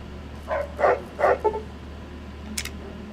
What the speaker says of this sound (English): Hey, isn't that the king's dog?